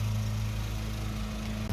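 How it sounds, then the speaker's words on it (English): A lawnmower engine drones steadily outdoors, a low, even hum with no change in pitch throughout and no voices over it. "And yeah, there's a lawnmower."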